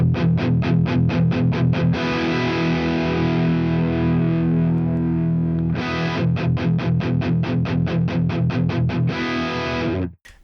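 An electric guitar played through the STL Tones AmpHub amp simulator with high gain crunches out fast palm-muted chugs, breaks into a long sustained distorted chord, then returns to rapid chugging, loud and close with no voices.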